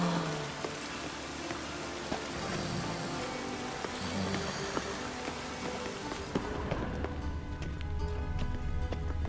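Steady rain falls on city streets in the game Witcher 3, a continuous wet hiss with scattered patter and clip-clopping hooves. Near the end the rain thins and sharper knocks and clicks stand out.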